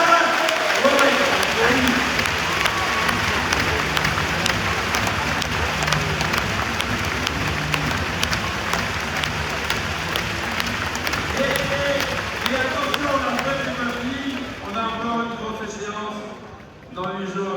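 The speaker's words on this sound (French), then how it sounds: "une salve d'applaudissements du public" A long, sustained round of audience applause at a basketball club's season-end ceremony, dense and even for most of the stretch before thinning out, with talking emerging over the last few seconds.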